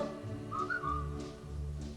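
Melodic whistling from a 1961 Disneyland broadcast, a bright gliding tune carried over a full orchestral accompaniment with sustained low harmonies, steady and fairly loud throughout.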